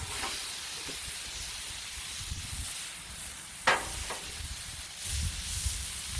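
A crunchwrap burger sizzles on a flat griddle just after being flipped, a steady close hiss running throughout with one sharp scrape or tap partway through, no talking.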